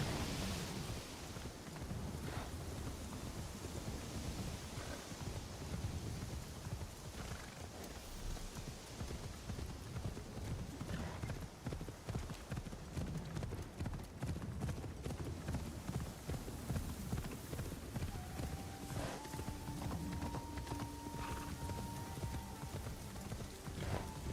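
Horse hooves clop steadily under a rider travelling up a road and pathway in the video game Assassin's Creed Shadows, with wind and faint ambient tones behind the rhythmic footfalls.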